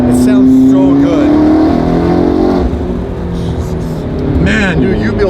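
A straight-piped V12 Ferrari engine revs hard and loud up close while the wheels spin without traction, the pitch climbing then dipping and climbing again, with people talking excitedly over it.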